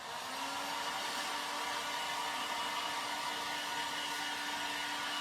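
Hair dryer blowing over a thrifted wood craft of a cottage duck, a steady close whooshing whir with a constant tone, running alone without pause.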